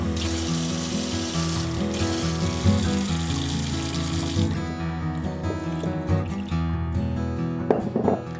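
Water poured from a cup into a bowl of bread dough ingredients for homemade sourdough or artisan bread, a steady splashing trickle that runs for several seconds, then thins to softer drips and stirring clinks.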